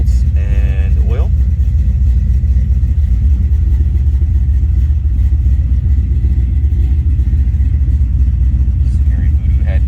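A 1970 Chevrolet C10 Stepside pickup with a 383 stroker V8 and aluminum heads idles with a loud, steady, deep rumble close by, a brief voice cutting in near the start.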